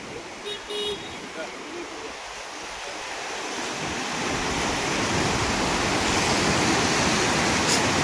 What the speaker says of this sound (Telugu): కొండల నుంచి వాటర్ అనేవి కిందికి ఫ్లో అవుతున్నాయి